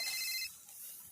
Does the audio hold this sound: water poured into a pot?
no